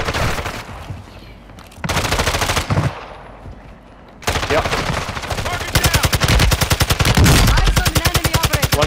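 Close, loud rapid gunfire in a video game match on Ashika Island, in dense bursts separated by quieter gaps, ending in a long sustained volley.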